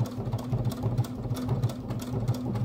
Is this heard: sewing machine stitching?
yes